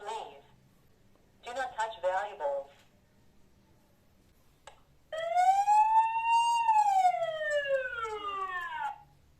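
An EYESEC PTZ indoor CCTV camera's alarm siren gives a loud rising-and-falling electronic wail at half volume, following a few short warbling bursts and brief speech.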